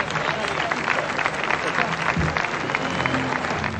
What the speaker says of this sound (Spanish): Les voy a pedir que reciban con un caluroso aplauso a la República del Paraguay.